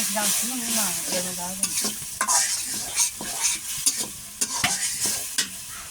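Spiced river fish curry being stirred and fried in a pan, a utensil scraping and clacking in a steady irregular rhythm over a continuous sizzle, close and fairly loud, with no talking.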